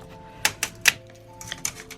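Power Gear 2 garden shears cutting material in a Dollar Tree craft project: three sharp snips close together, then a quicker run of lighter clicks, close and crisp.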